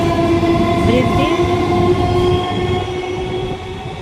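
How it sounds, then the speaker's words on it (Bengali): A train passes a station platform close by with a loud rumble and sustained metallic wheel squeal, fading slightly toward the end. "ট্রেনটা চলে যাবে।"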